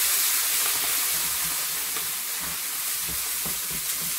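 Onions sizzling with a splash of vinegar in a pan on a turned-down stove, a steady, close hissing fry with faint crackles and no talking.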